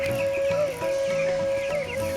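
Broiler chickens cluck steadily inside a raised slatted-floor poultry house in Raipura, Narsingdi, with a constant hum beneath the close, continuous clucking.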